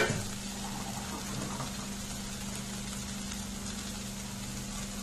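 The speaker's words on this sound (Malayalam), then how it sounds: "ഇതിനകത്തേക്ക് നമുക്ക് കുറച്ച് വെള്ളം ആഡ് ചെയ്ത് കൊടുക്കാം." Water poured into vegetable kurma cooking in a hot pan produces a continuous hissing, bubbling sizzle over a low steady hum, even and close for several seconds.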